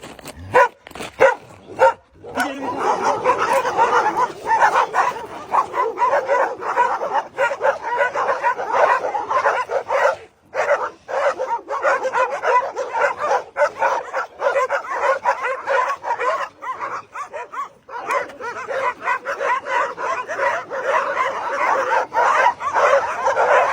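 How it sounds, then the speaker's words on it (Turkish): Stray street dogs barking and yipping continuously at close range for the whole stretch, with dense overlapping barks and occasional whimpers, loud and agitated, no talk over them. "Sokak köpeklerinden dolayı insanlar hiçbir şekilde geçemiyormuş."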